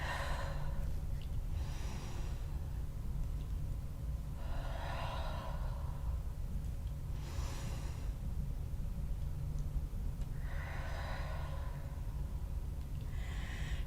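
Slow, deep yoga breaths come in soft, airy swells every couple of seconds, each inhale or exhale rising and fading over a constant low background hum, with no talking.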